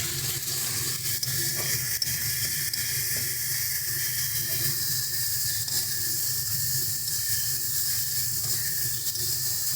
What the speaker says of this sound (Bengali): সমস্ত কিছু দিয়ে এবারে ভালো মতন করে মশলাটাকে কষিয়ে নেব।